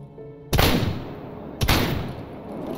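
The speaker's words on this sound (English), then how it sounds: "I just missed both my shots." Two sharp gunshots in a first-person shooter game, a close, loud crack about a second apart, each followed by a short decaying tail over faint background noise.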